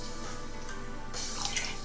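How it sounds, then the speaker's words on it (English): Water is poured from a tap into a crock pot of chicken bones for broth, a faint close trickle that swells into a brighter splashing stream near the end, with no voices. "I'm going to go ahead and top it up with a little bit of water."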